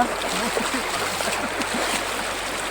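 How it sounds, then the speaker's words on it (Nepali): People wading across a stream with slightly dark water, a steady rushing flow with faint splashes throughout, close and continuous, with no clear voices. "र यहाँ सबै साथीभाइहरू दाजुभाइहरू सबै यहाँ खोला पार हुँदैछ"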